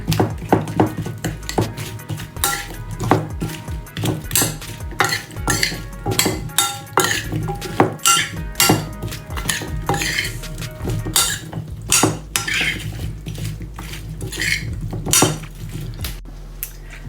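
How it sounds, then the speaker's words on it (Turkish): A spoon clinks and scrapes steadily against a bowl while a potato and zucchini mixture is stirred with oil before baking, producing a continuous run of close, busy metallic taps. "Şimdi her yerine yağ her yerine gelecek şekilde karıştırıp fırın tepsisine alacağım."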